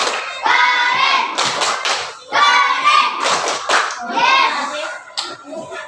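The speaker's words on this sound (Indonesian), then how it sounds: "tepuk keren dulu untuk semuanya" A school class doing a rhythmic group clapping routine, with children's voices chanting along between bursts of patterned hand claps, close and fairly loud in a classroom.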